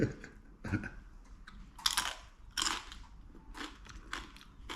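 Several sharp, dry crunches and crackles at irregular intervals, close up, as a fork breaks through the crisp baked crust of Maltese baked pasta (imqarrun) with corned beef.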